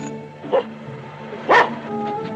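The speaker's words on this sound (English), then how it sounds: "Your cur would bark?" A dog barks twice from a 1940 fantasy film set in Baghdad: two short, loud yelps about a second apart, with a low steady tone running beneath.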